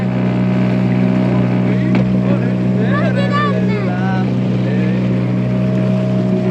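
A motorboat cruises on a lake near a Finnish cottage, its engine droning loud and constant through the whole stretch, with wind buffeting the microphone and people talking over the motor.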